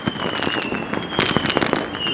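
Fireworks at the Sumaq Wata festival in Ayacucho, Peru, crackle and pop in a dense, rapid string of loud bursts that sound close by, with a faint steady whistle running underneath.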